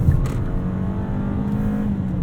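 A 2019 Hyundai Santa Fe Ultimate with the 2.4 engine and AWD accelerates, its engine revving as a steady, strained drone heard from inside the cabin, holding a sustained pitch throughout.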